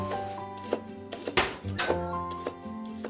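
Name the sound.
knife chopping food while cooking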